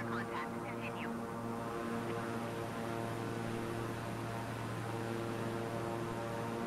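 In a video game, a propeller aircraft drones steadily in flight at about 5,000 feet. The hum is even and constant, with a brief voice near the start.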